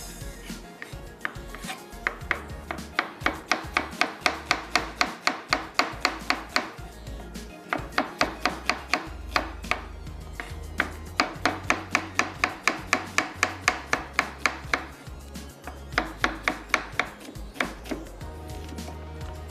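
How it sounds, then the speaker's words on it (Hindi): A knife slices onions on a cutting board for a Hyderabadi paratha, producing quick, close, rhythmic chopping strokes in steady runs with brief pauses between them. "सबसे पहले प्याज को कर लेंगे स्लाइस।"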